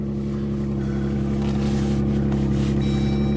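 A Jeep Wrangler engine idles right after starting, a steady mid-pitched hum and drone that holds close and even, with a thin whine joining near the end.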